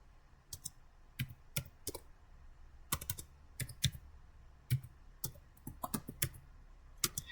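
Close, irregular keystrokes on a computer keyboard come in quick clusters and single taps, crisp and clicky, while a user account is set up during an open-source IT lesson; no one speaks.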